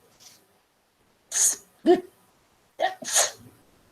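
A person sneezes in a classroom lecture setting: a few sharp, close bursts come in two quick pairs against near silence.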